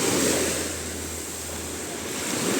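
Sea waves wash onto a sandy Adriatic beach in Albania, where the water is clear and the shore is sand with a few shells. The surf gives a steady, broad wash, with wind noise on the microphone and no talk.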